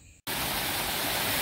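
After a brief silent gap, a loud, steady roar of rushing water sets in and holds, like a nearby waterfall crashing down in Costa Rica.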